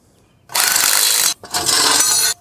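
A socket ratchet removes the 13 mm pivot bolt from a Harbor Freight bead breaker with two quick runs of rapid clicking, close and loud, separated by a brief pause.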